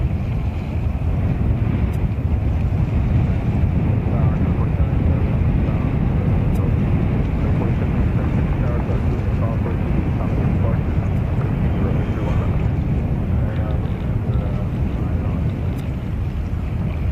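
A jet airliner in Nikola Tesla livery roars at JFK International Airport, a loud, steady, broadband engine rumble with wind buffeting, heard under talk and radio chatter throughout.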